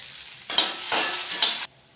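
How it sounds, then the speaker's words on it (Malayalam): Cashew nuts hiss and sizzle in hot ghee in a pan while being stirred, with two short bursts of frying noise and light scraping, close and clear with no talking. "അതിലേക്ക് നമുക്ക് കശുവണ്ടി ഇട്ടൊന്ന് മൂപ്പിക്കാം."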